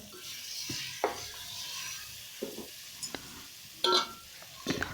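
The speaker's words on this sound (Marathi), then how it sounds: "आणि आता हे चिकन" Chicken cooks in a spiced tempering with onion and tomato, a faint low sizzle broken by scattered scrapes and clinks of a spoon stirring against the pan, close but quiet.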